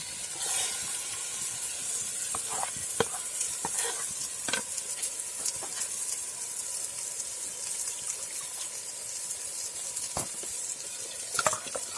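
Ground masala paste hits a hot pan for a village-style dry fish curry, sizzling and frying with a constant hiss, punctuated by scraping stirs and clinks of a spoon, close and without talk.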